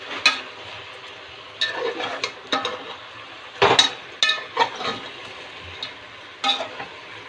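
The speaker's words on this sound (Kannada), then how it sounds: "ಚೆನ್ನಾಗಿ ಮಿಕ್ಸ್ ಮಾಡಿಕೊಂಡು ಅದು ಫುಲ್ ಒಂದು 5 to 10 ಮಿನಿಟ್ಸ್ ಚೆನ್ನಾಗಿ ಬೇಯಿಸ್ಕೋಬೇಕು" Chicken pieces fry with turmeric and salt in a pan for a chicken gravy, with a low sizzle broken by irregular, close scraping stirs and occasional utensil clinks.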